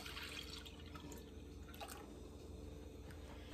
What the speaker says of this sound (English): We are gonna add in 3 cups of organic milk